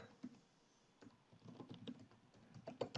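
Typing a ping command on a computer keyboard, with quiet close key taps in a quick irregular patter that grows busier toward the end.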